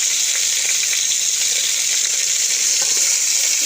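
Chicken frying in a pan for spicy achari spaghetti, a loud, dense, unbroken sizzle heard close up with faint stirring underneath.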